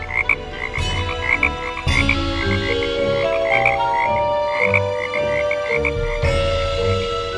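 Frogs croak repeatedly in a steady chorus at a pond, loud and close, with layered rhythmic calls over an ongoing background.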